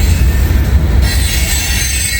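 Heavy freight train gondola cars, probably loaded with scrap or steel slabs, rolling past with loud squealing wheels: a sustained high metallic screech over a constant low rumble of rail noise.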